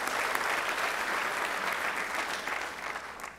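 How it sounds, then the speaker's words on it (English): Steady applause from an audience fills the whole stretch, a dense patter of many hands clapping at an even level. "So give yourself another round of applause."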